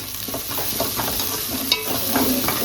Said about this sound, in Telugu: అల్లం వెల్లుల్లి పేస్ట్ కూడా వేగుతుందండి